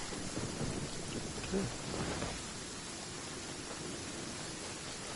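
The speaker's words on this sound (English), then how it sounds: "It's raining now." Rain falls steadily in the video game Genshin Impact, with a low rumble of thunder early on, soft and even throughout.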